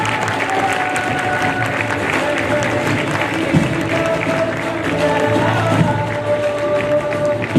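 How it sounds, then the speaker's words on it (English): A large school audience claps loudly and continuously at an investiture ceremony, a thick wash of many hands with faint cheering and crowd murmur mixed in, close and sustained throughout. "Can we have a huge round of applause for him?"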